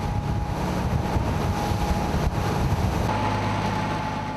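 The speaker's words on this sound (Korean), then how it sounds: "매서운 바람과 함께 높은 파도가 들이친다" Strong gusting wind and high waves buffet the side of a boat at sea, a steady loud roar of wind noise and surging water throughout with no voices.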